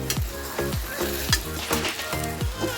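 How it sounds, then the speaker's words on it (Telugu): Gongura leaves, curry leaves and coriander fry in hot oil, giving a steady close sizzle broken by a few scraping stirs and spatula strokes, with no voices. "ఇప్పుడు ఇలా నూనెలో వేపుకోవాలి."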